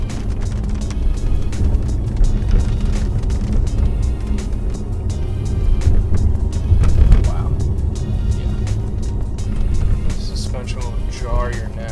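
A 2019 Mercedes-Benz E63s engine roars as the car accelerates and shifts around 4,000 rpm, with a low, sustained drone that swells and eases under someone talking throughout.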